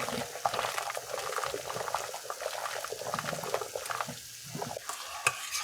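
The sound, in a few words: stirring a pot of dhal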